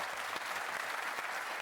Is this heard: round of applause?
yes